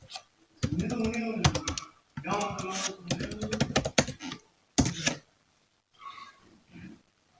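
Computer keyboard typed on at a desk while entering a software search, bursts of quick clicky keystrokes with short gaps, close and fairly faint.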